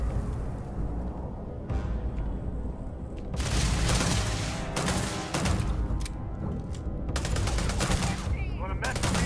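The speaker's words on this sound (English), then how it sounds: "Oh, throwing grenades." Rapid gunfire and booming grenade blasts in Starfield combat, loud and dense in bursts that break off and resume, with a voice talking over the fighting.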